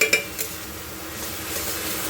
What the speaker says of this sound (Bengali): দেখো মোটামুটি মশলাটা দিয়ে কষানো হচ্ছে।